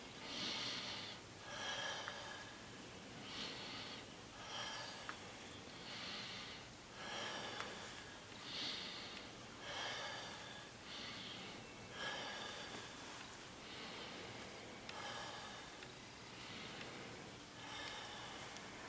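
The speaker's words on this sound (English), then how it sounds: "Deep breath. Again." Deep breaths during a lung examination, repeated rhythmic inhales and exhales with airy, snort-like rushes, close and fairly faint, about a dozen in steady succession.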